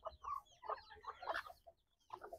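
A nearby bantam hen clucks in short, throaty bursts at close range, with brief pauses between phrases.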